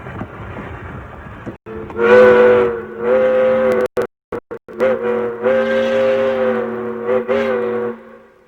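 A steam train engine on the tracks sounds loud, sustained whistle blasts, several long harmonic tones broken by short gaps and stuttering cut-outs, heard up close on an old recording.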